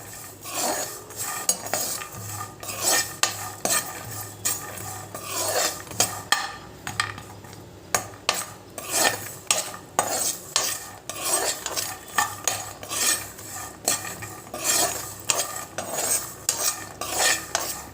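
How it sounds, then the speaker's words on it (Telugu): Tomatoes and salt dry-roasting in a pan with no oil, stirred steadily with a utensil. Close, continuous scraping and clinking strokes come with faint crackle and no talk. "ఇందులో ఆయిల్ కానీ ఏమి వేయలేదండి జస్ట్ ఉప్పు పెనంలోనే వేపుతున్నాను"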